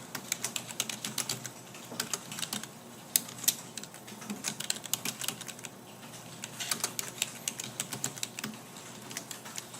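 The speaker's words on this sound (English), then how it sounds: "so not typing out that whole thing" Typing on a computer keyboard during a class lecture, with quick irregular bursts of light key clicks, fairly close and quiet, continuing alone without talk.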